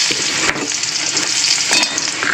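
Chopped garlic frying in hot oil for soybean chili, a loud, dense, continuous sizzle and crackle close up, with a few stirring scrapes.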